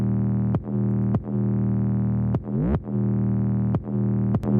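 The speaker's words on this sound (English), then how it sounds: "So the 808 and kick sound like this." Heavy 808 bass and kick drum from a trap-style beat in FL Studio, run through a soft clipper: a deep sustained sub-bass tone broken by punchy kick hits every half second or so, loud and alone.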